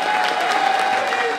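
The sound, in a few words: applause at Christmas carol awards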